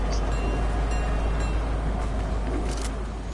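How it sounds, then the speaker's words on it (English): A train ride in the video game Fortnite gives a steady, dense rumble with a deep low hum and broad rushing noise, continuous and fairly loud, with faint higher clatter near the end. "I'm on the train."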